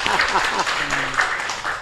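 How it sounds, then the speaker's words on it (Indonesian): Brief applause from a studio audience on an Indonesian talk show about creative economy, broadband clapping with a voice speaking over the start and tonal sounds in the middle. "Tepuk tangan untuk beliau-beliau ya."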